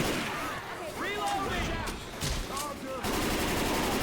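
Rapid gunfire bursts from the video game Left 4 Dead 2 crackle over in-game ambience, with a short exclamation from a player mixed in among the shots.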